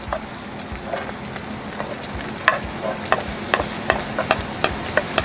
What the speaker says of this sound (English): Let's saute this vegetable. Put a little bit of oil. Okay, we're gonna put the garlic.